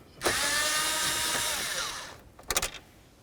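A power tool backs a screw out of the dash of a 1988-2000 Chevy C/K1500 pickup: a loud, close, whining spin of about two seconds that slows, followed by a couple of short, quick bursts.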